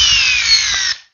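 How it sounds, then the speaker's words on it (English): A Ridgid Gen 2 subcompact drill driver on a fully charged 6 amp hour battery, a loud high motor whine held for about a second before spinning down quickly. "The rigid subcompact drill driver."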